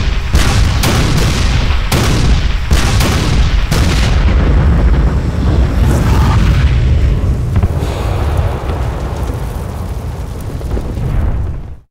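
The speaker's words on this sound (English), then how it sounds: "The largest artillery barrage ever in North America is about to begin." Civil War artillery barrage at the Battle of Gettysburg, cannons firing in a fast volley of heavy booms, then a dense sustained rumble of continuous fire that fades at the end, loud and close with no talking.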